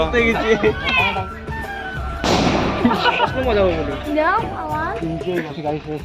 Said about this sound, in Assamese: বোমা মাৰছ।